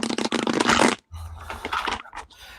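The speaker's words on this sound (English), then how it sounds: "let's collect these cards here. Do a little shuffle." A deck of reading cards is shuffled close up in a quick, dense riffle lasting about a second, followed by softer handling and rustling of the cards.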